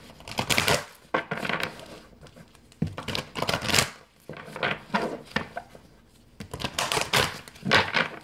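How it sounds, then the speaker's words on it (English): Quick papery riffling in several separate bursts, like cards being shuffled over and over at close range, with short pauses between rounds. "I haven't shuffled this one, so give me just a minute."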